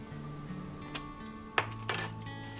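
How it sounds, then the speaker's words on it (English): A spoon scraping and clinking against a pot as seasoning is stirred into broth, a few sharp metallic taps over a steady low hum, fairly quiet. "Stir it up and give it a taste"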